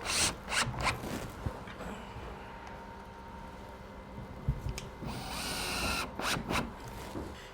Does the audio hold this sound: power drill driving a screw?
yes